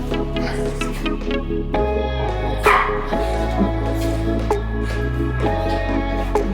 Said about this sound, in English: The dogs are warming up with us.